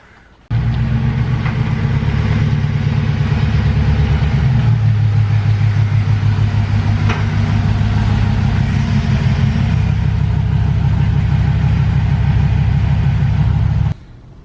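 A GMC Sierra pickup truck idles in a home garage, a loud steady low engine rumble starting abruptly and holding for over ten seconds before cutting off, with a slight pitch shift midway and no talk.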